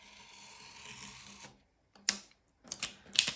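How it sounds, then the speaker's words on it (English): A razor blade cutting a piece in half during watercolor work: a steady close rasping scrape for about a second and a half, a short silence, then several sharp, crisp clicks and snips. "With this razor blade. This one I'm going to cut in half"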